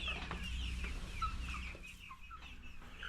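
Several chickens cluck and murmur nearby in short, scattered calls over a low background rumble, with no voices.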